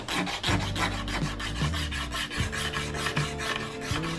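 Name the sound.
file scraping high spots off wood and Bondo filler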